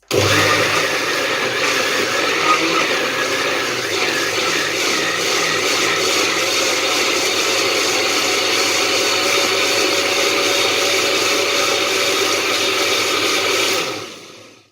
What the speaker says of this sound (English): excuse the noise, because it is a very noisy blender